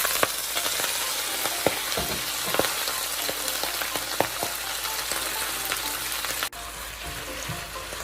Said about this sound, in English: as soon as it starts sizzling like this, okay, you can see the sausages are pretty much soaked in that cooking oil